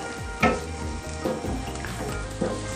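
Garlic frying in oil or margarine in a pan, a steady close sizzle with occasional louder stirring scrapes and clinks, no voices.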